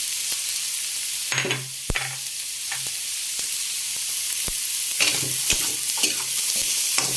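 Garlic, onion and carrot sauté in a pan, a continuous bright sizzle broken by repeated sharp knocks and scrapes of a utensil stirring, close and without speech.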